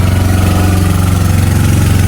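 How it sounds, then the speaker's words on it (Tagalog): Motorboat engines pass close by on the water, a loud, steady, throbbing drone with a regular pulsing beat and strong low hum, filling the whole stretch without speech. "May nadaang mga bangkang motor po."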